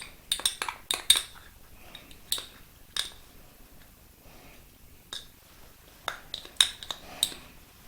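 A utensil clinking and tapping against a bowl as thick honey is stirred into beaten egg, the clicks coming in irregular bursts with quiet gaps between them.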